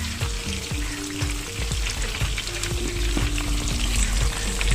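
Mutton pieces for Kashmiri rogan josh fry in hot oil, a steady close sizzle with scattered crackles and pops throughout, and no voices.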